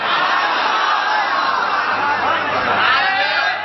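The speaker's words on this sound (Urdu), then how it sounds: "سنیے نعرے بازی کم کیجئے" Crowd at a religious speech in Urdu, chanting and shouting slogans together, a loud continuous roar of many voices.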